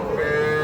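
A young heifer calf at a cattle market gives a single short, close moo, a steady nasal tone lasting under a second.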